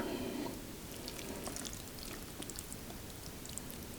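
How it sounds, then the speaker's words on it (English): Tuna oil being poured into a corn bait mix for kokanee fishing: a soft, steady trickling hiss with faint scattered drips, quiet and close, with no speech over it. "I'm going to be pouring our tuna oil in with it."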